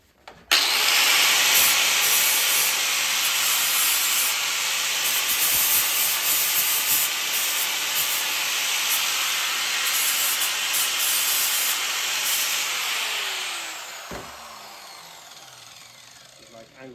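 An angle grinder works steadily on a cut EG shift linkage, a loud, close, continuous high-pitched grinding whine held for about fourteen seconds before spinning down.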